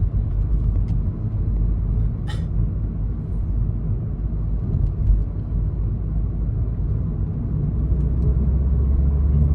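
Highway traffic heard from inside a moving car on a sunset drive: a steady, loud low rumble of engine and road noise throughout, with one brief sharp click early on.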